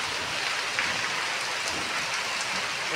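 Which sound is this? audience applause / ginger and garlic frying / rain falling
rain falling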